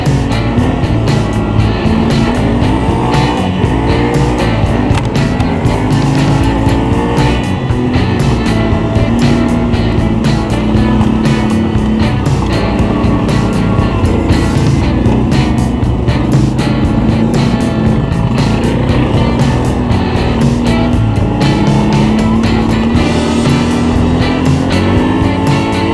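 ATV riding fast on a club trail in Norfolk, engine roaring steadily and close with rising and falling revs throughout, under constant wind and rattle.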